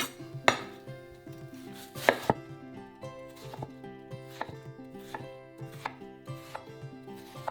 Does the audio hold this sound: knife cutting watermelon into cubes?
yes